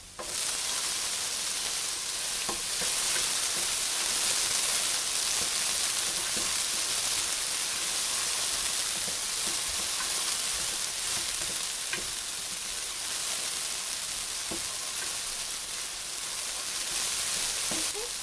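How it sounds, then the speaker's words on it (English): Diced tomato sizzles steadily in a pot for a vegan Vietnamese sweet and sour soup, a dense, even frying hiss with faint stirring scrapes running throughout, close and unbroken with no talking. "Now I'm going to go ahead and add that diced tomato in there."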